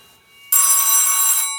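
An old telephone ringer bell rattles loudly in one sustained ring lasting about a second, bright and metallic, starting abruptly after a brief quiet moment.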